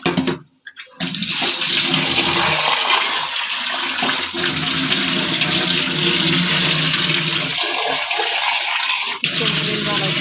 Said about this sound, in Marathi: आता किचन वगैरे धुवून घेऊ.